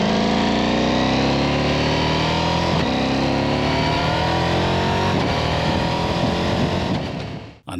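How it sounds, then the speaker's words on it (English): A Ducati Diavel V4 motorcycle engine with a twin-pulse firing order revving hard and steadily climbing in pitch, loud and close, with a brief dip near the end before it picks up again. "the V4's incredible twin-pulse firing order gives it a unique, aggressive growl"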